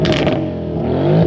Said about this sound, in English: Nice big backfires.